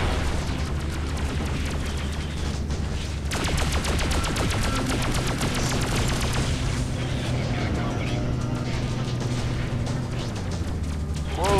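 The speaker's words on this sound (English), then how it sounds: "Whoa, that's a lot of gunfire." Dense gunfire and booming blasts rattle on nearly without pause during a space battle in the video game Freelancer, loud and layered throughout.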